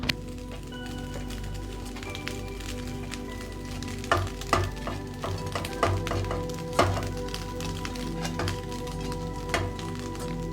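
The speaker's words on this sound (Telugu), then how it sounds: "ఈ క్యారెట్ మిశ్రమం అంతా రైస్ కలిసేదాకా బాగా కలుపుకోవాలి" Cooked rice being stirred into a carrot mixture frying in oil, a soft continuous sizzle with intermittent spoon clacks and scrapes against the pan, close and fairly quiet, without speech.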